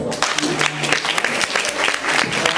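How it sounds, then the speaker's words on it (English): An audience at a vegan lecture claps in a steady burst of applause, dense overlapping hand claps filling the room at moderate loudness. "So I want a round of applause for you guys."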